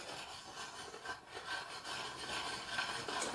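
A spoon stirs a cooking mixture in a pot on the stove, making a continuous close scraping and rubbing sound at a steady pace, with no talk.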